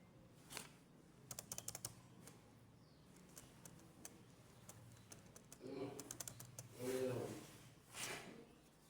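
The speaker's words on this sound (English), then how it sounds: "So we are going to type that on our keyboard here." Keys on a computer keyboard tapped in a few short bursts of clicks while a password is entered, close and fairly quiet, with some faint background noise between the keystrokes.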